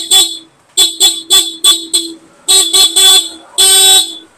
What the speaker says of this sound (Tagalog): Stock horn muna tayo.